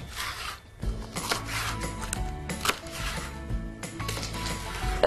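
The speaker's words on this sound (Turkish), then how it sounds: "Evet, kapya biberlerimizi de doğrayalım." Roasted red kapya peppers are chopped on a board in a home kitchen for a salad, the knife landing in close, irregular strikes with short pauses between cuts.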